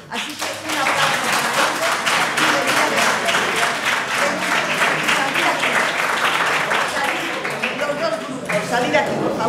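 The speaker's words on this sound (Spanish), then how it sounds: "Así que un aplauso." An audience at a serious-game award ceremony breaks into sustained applause, dense steady clapping from many hands that carries on loudly for several seconds, with voices faintly underneath.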